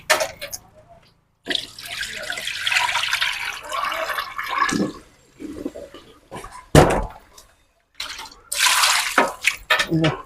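Goat meat being washed by hand in water: splashing and sloshing in bursts with short pauses, close by, with a person talking at times.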